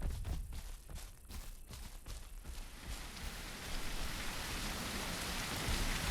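Steady rain in the dinosaur survival game The Isle Evrima, a dense hiss of drops building from patchy pattering into a constant loud downpour.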